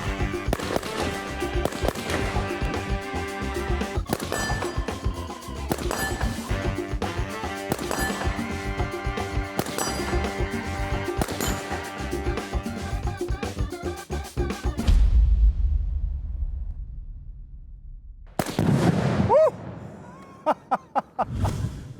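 Rifle shots fired quickly in a course of fire, a dense series of loud, sharp reports over roughly fifteen seconds, then silence and a few final shots close to the microphone.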